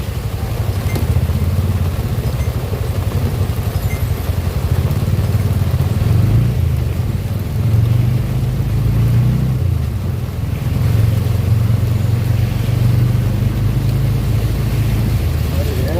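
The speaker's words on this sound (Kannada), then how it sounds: "ಜೋರು ಹೊಡಿತಿದೆ ನೋಡಿ, ತುಂಬ ಜೋರು ಮಳೆ ನೋಡಿ" Heavy, constant rain roars on a street at Hennur Cross, Bengaluru, while engines drone and vehicles pass through the downpour, loud and continuous, with occasional muffled voices.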